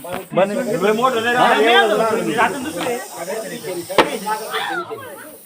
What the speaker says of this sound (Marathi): तो कशा प्रकारे त्याचा कुकर शिट्टीसारखा आवाज करतोय